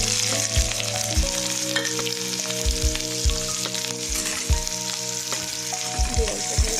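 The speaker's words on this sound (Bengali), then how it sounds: "দিয়ে অল্প ভেজে নেব" Chopped onion and green chili fry lightly in oil with whole cumin, a steady close sizzle broken by rhythmic scraping stirs of a spatula against the pan.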